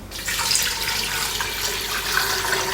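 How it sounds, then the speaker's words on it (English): Water pouring from a tap into a pot holding blanched pork ribs, a steady bright splashing rush that starts abruptly and continues evenly at close range. "Next, I transfer the blanched pork ribs into a pot, and then I'll add some water into it."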